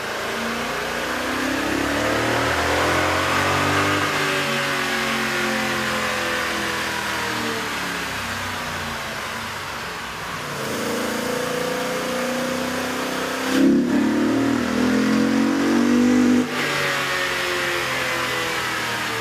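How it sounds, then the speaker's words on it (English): 2012 Toyota Tundra with a 5.7-liter engine and aftermarket air intake revving on a dyno, rising and falling through long loud sweeps with sharp peaks near the end. "With the air intake installed, we ran the vehicle on the dyno to test the sound comparison versus the stock intake"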